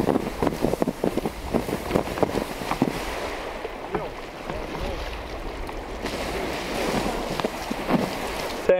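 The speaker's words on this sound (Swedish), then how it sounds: "nu ska jag släcka elden och hälla lite vatten på den så den släcks helt hållet" Crackling and popping with a rushing hiss as water is poured onto campfire embers, a sputtering sizzle that keeps going throughout.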